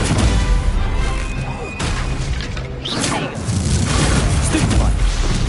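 The Stupefy spell is cast in the video game Hogwarts Legacy, producing loud booms, crashes and whooshing impacts in dense succession throughout the fight, with a voice speaking over the effects.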